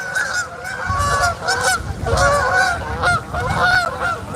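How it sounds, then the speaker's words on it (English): Canada geese honk loudly and repeatedly in overlapping bursts, nearby and out in the open by the water. "Oh, got some Canada geese."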